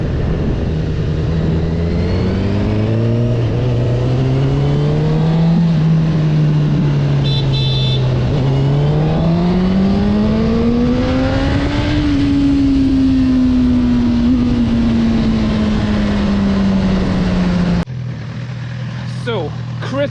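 A Honda CB1000R motorcycle engine howls loud and close, climbing and dipping in pitch as the revs swing up toward a high peak, then dropping back to a lower idle near the end.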